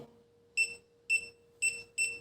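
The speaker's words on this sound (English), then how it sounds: "the more often the LED flashes and the buzzer sounds" A WinAPEX 268B clamp meter's buzzer detects voltage at an electrical panel, giving four short, sharp electronic beeps at an even, quickening pace over a faint steady hum.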